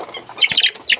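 Rhode Island Red chickens kept as backyard fowl give a few short clucks and chirpy calls, close and moderately loud, in brief bursts over quiet.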